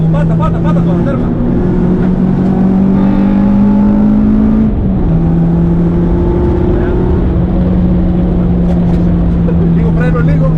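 A race car, a GT3, BMW M2 or Honda Civic Type R, laps the Serres circuit with a loud, close engine note that climbs through the revs, drops sharply at a shift and then holds steady, while an instructor's voice talks over it.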